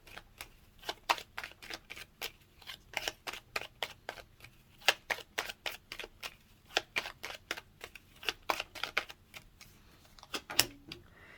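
Rapid, crisp riffling of a deck of Lenormand cards, a long run of quick papery snaps in irregular bursts, close and fairly quiet, with no talking.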